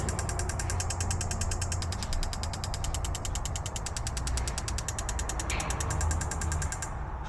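Fuel injectors on a MKIV Supra clicking one after another during a Maxx ECU injector test, a fast, even train of sharp ticks over a steady engine-bay hum, with one injector's tone shifting near the end.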